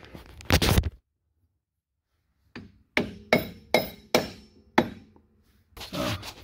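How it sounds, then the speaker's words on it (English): Five sharp hammer taps on a dowel rod, driving it into a stuck Club Car golf cart motor, ring out in a steady rhythm, each a bright, clinking strike that decays quickly, with a few rustling handling noises before and after. "I'm gonna try and use that to hit this in with a hammer"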